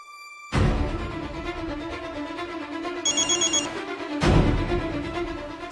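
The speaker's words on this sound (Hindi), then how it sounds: "तान्या को फोन लगाता हूं" A telephone ringback tone plays while a call is placed, a repeating electronic ringing pattern heard clearly and close over a steady background hum, with no talking.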